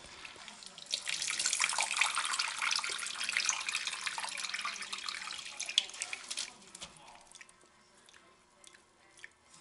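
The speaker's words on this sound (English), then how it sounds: "Mixing that salt in there good." A kitchen tap runs into a sink while brine is mixed for homemade sauerkraut, a steady hiss of water that fades into quieter sloshing and trickling.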